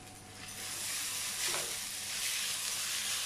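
Green chillies and curry leaves sizzle in hot oil in a pan, a steady close frying hiss that swells slightly as they hit the oil, with no talk over it.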